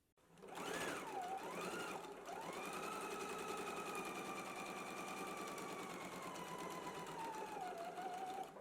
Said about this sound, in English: Let's go ahead and stitch this together now using a 5/8 of an inch seam allowance.